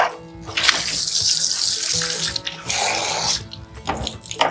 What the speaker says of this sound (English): See why it's handy to have a hose right above you.